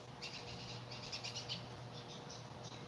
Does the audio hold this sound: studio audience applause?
no